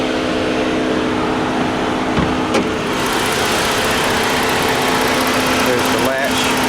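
A 2015 Ford Taurus SEL's 3.5-liter V6 idles steadily with the hood open, a constant close engine hum with a faint tonal whine, and a person speaks over it throughout.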